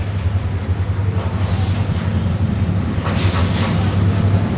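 A long freight train arriving at Ghorashal station, heard as a loud, steady low rumble and droning hum close by, with rising hiss and rattle of wagons passing.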